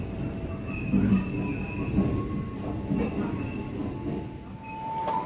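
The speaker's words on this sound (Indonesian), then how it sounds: "Perjalanan kereta api Pasundan Tambahan telah sampai di stasiun Wates." The Pasundan Tambahan passenger train runs on an Indonesian railway line, heard from inside as a steady low rumble with rhythmic wheel thumps and faint metallic squeals.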